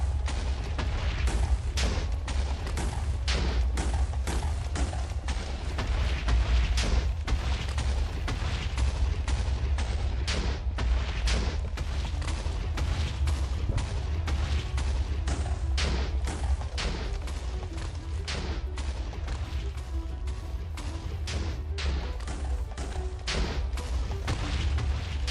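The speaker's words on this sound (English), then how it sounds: "Making sure my TNT cannons work." Repeated booming TNT cannon blasts in the Minecraft game Soulless World, a dense run of loud explosive thuds and bangs that continues steadily for the whole stretch with no talk.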